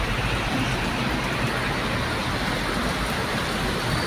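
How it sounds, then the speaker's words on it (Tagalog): Steady, dense rain falls in Quezon City as an even broadband hiss with a low rumble beneath, constant and unbroken throughout with no voices. "maulan dito sa amin sa Quezon City"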